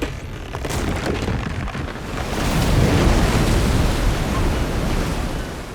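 A wooden Viking ship's hull slides off wooden rollers into the dark, cold water of a fjord, giving a steady, loud wash of rushing water and wind that swells midway and then holds.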